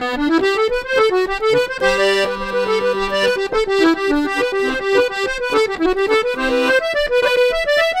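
A piano accordion plays an Irish traditional tune as a lively, continuous reedy melody with accents from the bass side and a brief held low note partway through, close and loud, with no voices.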